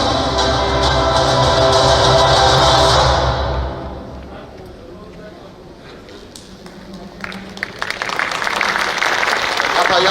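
An audience at a ceremony claps to welcome a speaker, loud applause at first that fades into quieter murmuring, then swells again, with a voice talking over parts of it.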